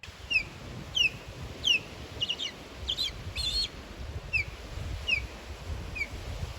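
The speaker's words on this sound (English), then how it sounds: "I'm going to be quiet a minute and let you hear an osprey" An osprey gives repeated short, high whistled chirps in a loose series, some faster clusters, over a low outdoor rumble, in Florida's Ten Thousand Islands.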